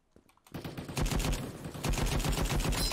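Rapid assault rifle bursts in the shooter game Krunker.io start after a quiet half second, then continue as loud, dense automatic fire with repeated sharp cracks.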